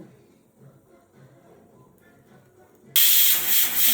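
Pressure cooker cooking sprouted moong releases a sudden loud burst of steam hiss near the end, after quiet kitchen background, the whistle-like rush continuing to the close.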